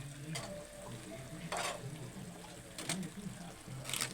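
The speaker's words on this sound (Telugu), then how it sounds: "వాటర్ అయితే మరుగుతున్నాయి కదా" Water bubbles and simmers in a pan at a steady boil, with occasional scraping and clinking of a utensil.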